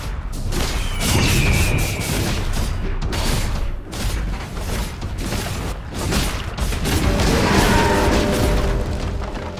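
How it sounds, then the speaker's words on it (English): Barracks under attack in Dota 2, with dense, continuous booming impacts, crashes and bursts of battle noise layered loudly over one another. "Radiant's bottom barracks are under attack."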